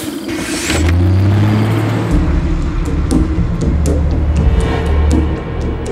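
A bus engine revs and then settles as the vehicle pulls over to the roadside and slows to a stop, a steady loud motor drone with a few short knocks and rattles, and no talking.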